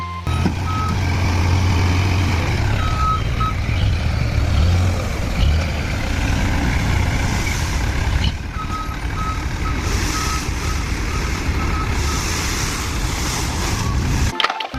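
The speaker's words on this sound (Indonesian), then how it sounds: "Yang ini kakak dapat mainan robot truk pengangkut kerikil." A toy robot gravel-hauling truck sounds a steady reversing beep, repeating close and loud over a busy rattling background for nearly fifteen seconds.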